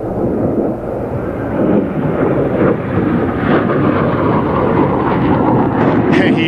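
A Harrier jet with vectoring nozzles pulls a tight Himmelmann over an air show, its heavy, continuous engine roar loud and rumbling, with a commentator talking over it.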